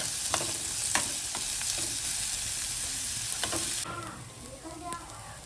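Onion frying and being stirred in a pan for a Kerala-style fried fish dish, with a steady sizzle and repeated scraping strokes of the spoon, the sizzle dropping noticeably partway through.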